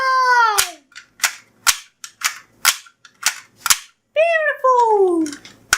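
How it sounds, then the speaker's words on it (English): Toy cap gun firing a series of sharp, loud bangs spaced at an irregular rhythm, mixed with a child's excited high-pitched vocal sounds at the start and near the end. "Beautiful toy gun."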